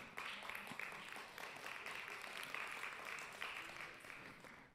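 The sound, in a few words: faint applause from a few listeners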